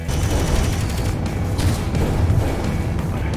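Rocket launcher fire in the space game Space Engineers at a ship graveyard: a loud, continuous barrage of booming blasts and rumbling explosions, dense and close, with no talking.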